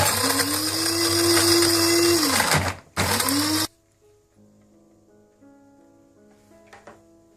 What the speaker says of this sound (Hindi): अखरोट और बादाम को मैंने देखे इस तरह से ग्राइंड कर लिए।